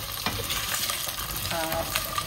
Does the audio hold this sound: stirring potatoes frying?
yes